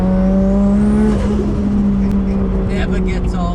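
A Nissan R33 Skyline fitted with a drift kit on a test drive, engine droning steadily with a rising whine, heard from inside the car as a voice talks over it.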